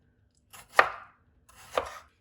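A knife chops fresh tomatoes for pizza sauce with two distinct, close, crisp strokes against a cutting board, separated by a second of silence.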